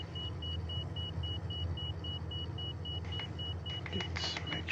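In Microsoft Flight Simulator 2020, a Pilatus PC-21's flaps-down alarm repeats quick, regular high-pitched beeps above a continuous low engine drone, with a few soft clicks near the end.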